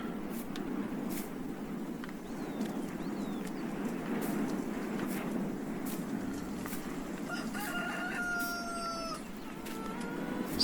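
Roosters in a farming video game crow repeatedly over a steady background of clucking and fowl chatter, with several long cock-a-doodle-doo calls near the end.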